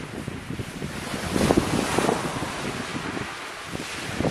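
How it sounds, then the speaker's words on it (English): Steady wind gusting across an open seashore at Selsey, with a broad rushing roar and buffeting on the microphone, swelling briefly mid-way before easing back to a constant blustery hiss. "The wind seems to be dropping a little bit."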